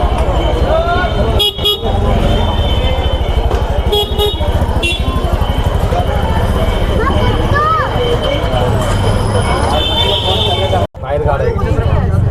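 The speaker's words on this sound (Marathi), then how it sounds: "बाहेर गाड्या." Busy street traffic outside a crowded temple entrance in Nashik, with engines and repeated horn toots running nearly continuously, mixed with crowd chatter and talk nearby, and a brief dropout near the end.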